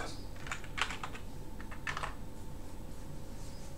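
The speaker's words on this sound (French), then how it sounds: "on tape Setup." Keys clack on a QWERTY computer keyboard in short irregular bursts of crisp taps, close and fairly quiet over a steady low electrical hum.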